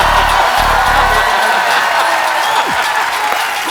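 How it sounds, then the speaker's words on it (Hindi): A television comedy studio audience applauding loudly at a Hindi talk show taping, a dense sustained roar of clapping with scattered cheers and whoops, close and continuous. "इतनी तालियों से बंदा मरवा देना आप लोगों ने"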